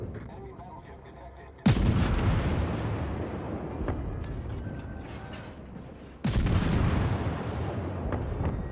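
Ship guns firing in the video game World of Warships, during destroyer gameplay: two heavy booming salvos several seconds apart, each leaving a long rumbling tail over a steady background roar.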